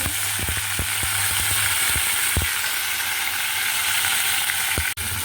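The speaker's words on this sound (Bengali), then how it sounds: "যে মশলাটা আমি ভাজছি অল্প করে সাদা তেলে" Onion, ginger and cinnamon fry lightly in a small amount of white oil, a steady soft hiss close by, broken early on by a quick run of clicking utensil taps.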